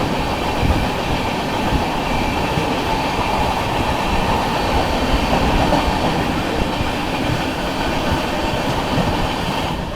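The Tatanagar–Jammu Tawi train rolls past on the rails, a loud, steady rumble of wheels and carriages with a faint clickety-clack running through the whole stretch, no voices.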